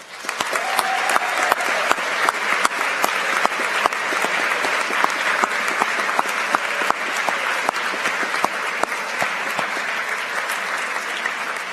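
Sustained audience applause at an academic awards ceremony for a biotechnology design team, a long, even roll of many clapping hands with a few sharper individual claps standing out.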